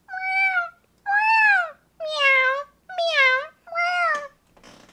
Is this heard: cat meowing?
yes